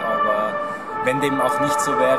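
Sirens wail and wind blows in the background at Tivoli stadium, steady and moderately loud beneath continuous close speech.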